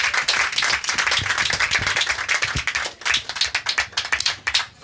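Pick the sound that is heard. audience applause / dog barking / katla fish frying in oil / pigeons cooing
audience applause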